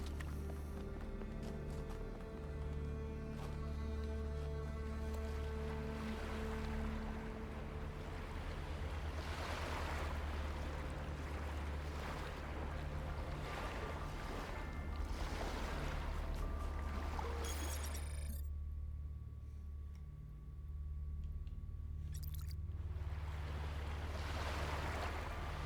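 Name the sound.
ocean waves ambience in The Talos Principle II video game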